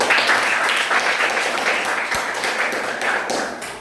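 Children in a classroom clap together in a steady, dense burst of applause that stays loud throughout, then begins to thin slightly toward the end.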